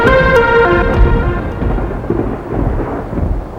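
Thunder rumbles loudly as rain approaches, a deep rolling boom that fades out over a few seconds, with faint tonal music-like sounds at the start.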